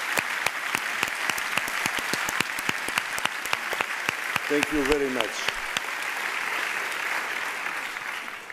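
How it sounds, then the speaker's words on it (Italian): Sustained audience applause fills the hall at the 76th Venice Film Festival awards ceremony, steady dense clapping throughout, with a brief spoken thanks from a man partway through. "So please, let's make a big applause."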